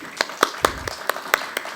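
Scattered claps from an audience at a literary festival session, a handful of separate sharp hand claps at an uneven rhythm, moderately close, with no talking over them.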